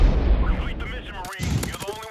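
MP5 in Modern Warfare Remastered firing in a multiplayer match, loud clustered gunshots in quick bursts mixed with other gunfire and faint voices.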